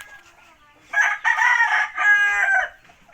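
An Ormoc Gold gamecock rooster gives one loud, close crow of about two seconds, rising and then holding its note, after a quiet moment with faint background noise.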